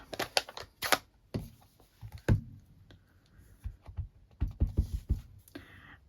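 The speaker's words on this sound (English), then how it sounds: "I didn't just stamp once, I actually stamped them twice" Rubber stamps pressed repeatedly onto card in a craft setting, producing a series of sharp, close taps and thumps in irregular clusters with quieter gaps between.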